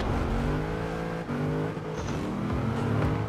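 A car engine in Forza Horizon 4 revs steadily and loud, with pitch rising and falling through gear shifts during a drive in Edinburgh, heard alone with no talking.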